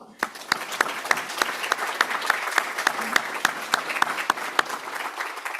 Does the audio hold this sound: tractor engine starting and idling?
no